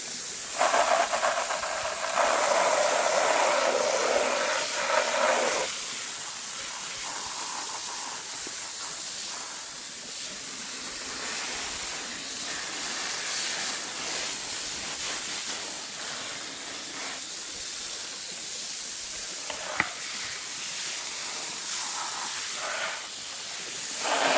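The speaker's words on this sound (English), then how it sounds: "Let's just spray it with a hose and see what that does" A garden hose sprays water onto a fiberglass surface, a broad steady hiss of water striking the panel that holds for the whole stretch with slight changes in intensity and no talking.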